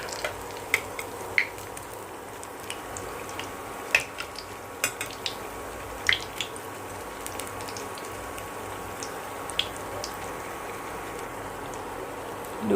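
Bread slices shallow-frying golden in hot oil in a pan, a steady soft sizzle with scattered light pops and occasional clinks of a utensil, no voices.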